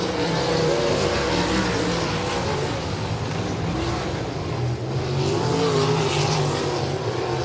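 Great Lakes Super Sprints sprint cars running a heat race at Winston Speedway, a dense continuous roar of several engines droning and surging together, heard from trackside without pause.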